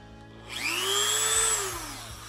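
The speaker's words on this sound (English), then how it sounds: "I'm just gonna go ahead and kind of freehand it here with a Dremel" A Dremel rotary tool cuts freehand into an HO-scale model structure, its motor whining up to a steady high-pitched drone that holds for over a second with slight pitch wavering, close and alone, then eases back down.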